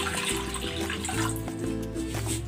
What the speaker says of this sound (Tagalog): maglalagay na ako ng tubig dito sa kawali